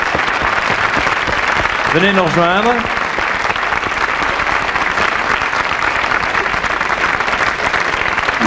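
Studio audience applause fills a French TV variety show set, steady and dense throughout, with a host's voice speaking briefly over it near the start.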